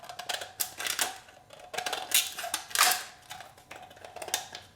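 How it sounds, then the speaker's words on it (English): Scissors snip repeatedly through thin metal, likely an aluminum can, while shaping a homemade alcohol stove, giving quick crisp cuts in irregular bursts close to the microphone with no talking. "Now we're going to take our scissors and we're going to cut"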